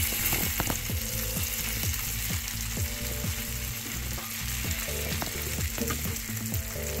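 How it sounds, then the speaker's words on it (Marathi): Stuffed green chillies roasting in a pan, a steady loud sizzle and crackle with rapid popping and spattering throughout, close up, with no voices. "आपण आता मिरच्या दुसऱ्या साईडने पलटून घेऊया। एका साईडने भाजून झालेल्या आहे, आता दुसऱ्या साईडने आपण भाजून घेऊया।"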